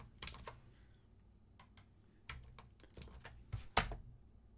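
Someone types a terminal command on a computer keyboard in a quiet room. The keystrokes are sparse and irregular, close and soft, and end in a sharper final press, like hitting Enter.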